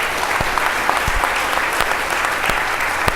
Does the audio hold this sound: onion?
no